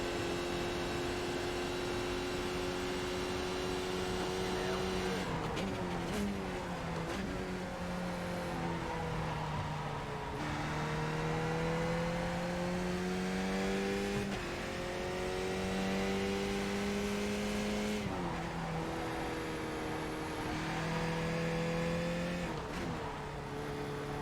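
A race car engine in the iRacing sim drones continuously and loudly, climbing in pitch through each gear and dropping sharply at every upshift, with several shifts across a long run and no talking.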